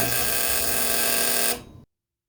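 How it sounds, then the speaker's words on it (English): Clothes dryer buzzer sounding a loud, steady electronic tone for about a second and a half before cutting off abruptly, close and alone. "when the dryer buzzer goes off"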